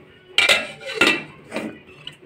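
Dishes, pots and cutlery clink and clatter in a small home kitchen, several sharp close knocks and chinks spaced about half a second apart, with no talking.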